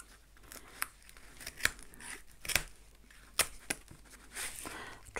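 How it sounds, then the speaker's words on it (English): Scissors snip through paper on an artist trading card swap piece, a handful of sharp, separate cuts spaced irregularly over quiet room tone, close and fairly soft. "Try not to cut my finger off or slice Anne's lovely work"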